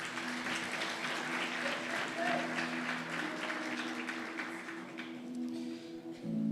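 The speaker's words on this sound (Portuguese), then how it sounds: "Aplauda o Senhor Jesus." Church congregation applauding during an evening service, a broad, sustained clatter of many hands clapping, fairly distant in a reverberant hall, with a low held keyboard or organ tone underneath.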